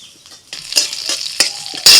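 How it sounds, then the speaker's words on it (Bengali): Whole cumin, ginger and green chilli crackle in hot ghee in a kadai, with spoon-stirring scrapes and sizzling bursts that grow louder toward the end over about two seconds. "ঘিয়ের মধ্যে দিচ্ছি অল্প একটু গোটা জিরে, দিচ্ছি আদা, কাঁচা লঙ্কা"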